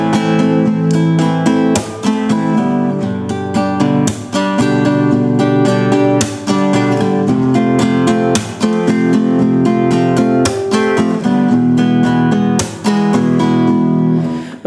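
Spanish rumba guitar strumming, played flat and even without accents, runs steadily and close for the whole stretch, a regular chordal pattern with no talking over it.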